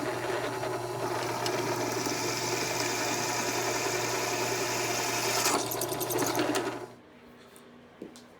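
A tapered drill bit bores into soft aluminum for a SnowRacer build, a steady loud whirring grind with constant motor hum that runs evenly for about seven seconds, then cuts off, leaving a faint tap near the end.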